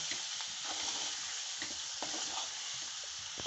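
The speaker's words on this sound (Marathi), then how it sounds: "व्यवस्थित असं ह्याला परतत राहायचं" Chicken coated in ground masala being sautéed in a pan, giving a constant oily sizzle with occasional faint stirring scrapes, heard close and steady throughout.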